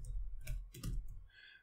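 Typing on a computer keyboard, a few close, soft key clicks in a short uneven burst, heard alone over a faint low hum.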